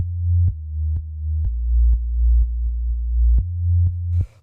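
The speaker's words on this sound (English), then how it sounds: "The next sound that we have here is the bass, which sounds like this." Simple synth bass line from an atmospheric house track: deep, smooth sustained notes change in a steady repeating pattern, each change marked by a soft click, playing loud and alone.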